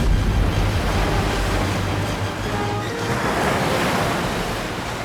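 Steady, loud surging wash of water, like heavy surf, serves as the effect for floodwater rising from melting snow in the fairyland of the Balveer fantasy TV series. A low rumble sits under it at first, with wind-like hiss throughout, and no voices.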